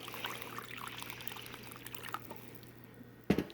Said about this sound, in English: And now I'm going to pour some water,